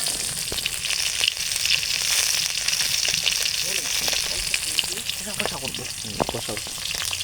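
Onion and garlic fry in oil for a fish curry in a village kitchen, a steady close sizzle with intermittent stirring scrapes, no voices.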